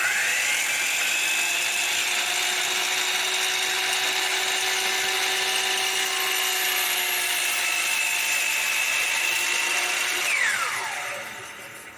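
A woodworking saw blade cutting wood in a cabinetmaking shop, a loud, steady high-pitched whine held for about ten seconds before winding down at the end.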